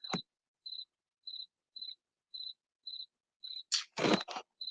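A single cricket chirps in short, evenly spaced bursts about every half second, loud and close, with a brief rustling clatter near the end.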